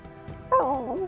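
A puppy gives a short whimpering yip in a Warhammer 40,000 tabletop video game, a brief high wavering cry over faint background noise.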